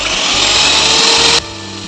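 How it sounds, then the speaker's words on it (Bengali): An electric hand beater whirs steadily and loudly as it whips eggs with vinegar for a butterfly birthday cake batter, a continuous motor drone that drops abruptly in level near the end. "এখন আমি এটা বিটার মেশিন দিয়ে বিট করে নিচ্ছি"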